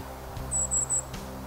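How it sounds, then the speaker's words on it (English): Golden-crowned kinglets calling from forest trees: three thin, very high-pitched notes in quick succession, fairly clear over a soft background hum, with no talking. "golden-crowned kinglets"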